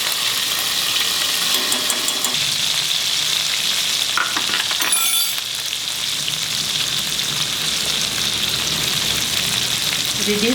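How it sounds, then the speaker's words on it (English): Ginger garlic paste and cashew paste fry in a pan for a mutton kofta curry, producing a steady, loud sizzle throughout, with brief scraping and stirring clatters partway through. "reduce the flame, fry the paste well."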